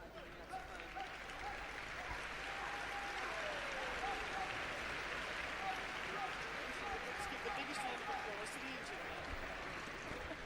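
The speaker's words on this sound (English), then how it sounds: "Yeah, that was a good round of applause" Judo spectators at a 2009 Birmingham contest applauding, a distant steady wash of clapping and crowd noise, faint and sustained throughout.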